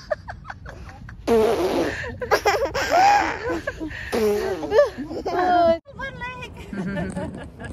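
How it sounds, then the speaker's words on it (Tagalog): Fart sounds at a family outing by a lake, short raspy blurts mixed with lively chatter and children's laughter close by. "Sino umutot?"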